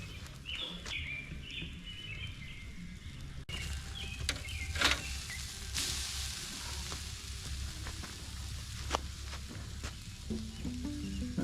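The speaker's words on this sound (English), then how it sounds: "got the meat on the grill" Steak sizzles steadily on an outdoor grill at a campground, a constant crackling hiss with faint birdsong in the background and a few clinks.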